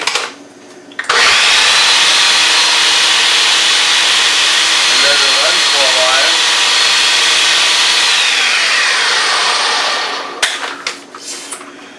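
A kitchen machine finely chopping onions for venison goulash runs as a loud, steady motorized whir for about nine seconds, then winds down and stops with a few clunks and knocks.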